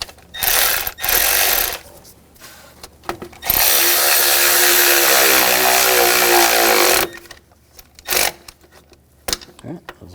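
A power tool tightens bolts on a 2000-2006 BMW X5 power steering reservoir, giving a loud, steady whirring burst of about three and a half seconds, framed by short mechanical clicks and rattles, close by.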